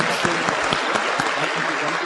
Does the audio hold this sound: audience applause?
yes